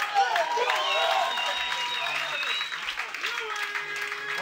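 A comedy club audience applauds and cheers to welcome comedian Louis Pollick, a steady wash of clapping mixed with whoops and voices that holds evenly throughout, with a host's voice over the crowd.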